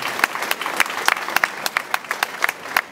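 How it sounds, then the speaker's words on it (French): Crowd applause at the opening of a town festival in Eauze, France, with distinct loud individual claps punctuating a dense, fairly close wash of clapping hands. "il faut l'applaudir"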